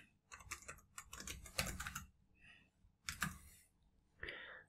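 A Wi-Fi password being typed on a computer keyboard, heard as quiet clustered bursts of close key clicks with short pauses between groups and no talk.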